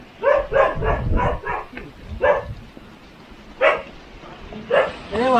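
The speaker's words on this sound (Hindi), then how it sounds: "कुत्ते भौंक रहे यार।" Several dogs bark in bursts during a hillside trek at Nakhind Ridge in Vangani, Maharashtra. A run of rapid barks comes first, followed by scattered single barks further apart, with faint rustling between them.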